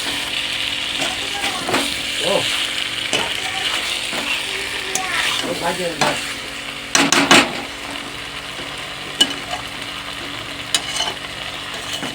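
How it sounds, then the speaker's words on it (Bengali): Food frying in a covered pot on a gas stove is stirred, giving a steady sizzle with scraping, clinking utensil strokes against the pot, several sharper knocks toward the end. "একটু নাড়াই"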